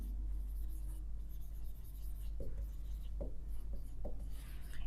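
Chalk or marker scratches across a board as a definition is written in a biology class, with soft rubbing strokes and a few sharper taps, faint under room hum and no speech.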